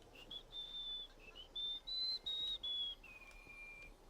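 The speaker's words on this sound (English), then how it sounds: "How do I whistle?" A person whistles a high, thin tune of several sustained notes that shift slightly in pitch, with short gaps between phrases; quiet but clear and close over faint room noise.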